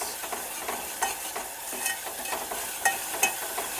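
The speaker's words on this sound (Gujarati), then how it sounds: "હવે ડુંગળીને આપણે સડવા દેવાની છે એકદમ સરસ" Onions fry for a stuffed ridge gourd curry, a continuous close sizzle with the rhythmic scrape of a spoon stirring the pan and a few sharp clinks.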